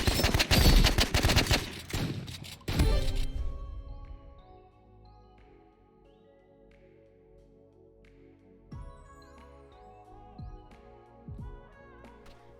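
Shotgun and assault rifle fire rings out in the Roblox Rivals video game, a dense rapid volley of loud shots for about three seconds, then scattered sharp single shots and thuds over a quieter musical background, with no talk.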